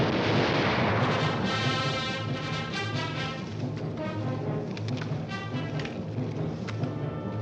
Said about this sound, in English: Take aim. Fire!